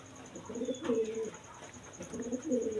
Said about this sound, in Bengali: আপনারা প্রথমে একজোড়া রেসার কবুতর দেখতে পাচ্ছেন